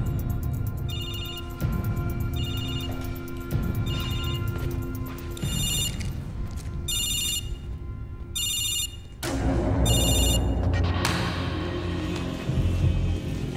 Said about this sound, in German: Dein Handy klingelt.